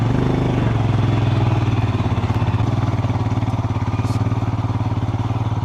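Motorcycle ridden in first gear on the throttle with a pillion passenger in Kashmir, a loud, close engine with a steady throbbing beat that carries through the whole ride.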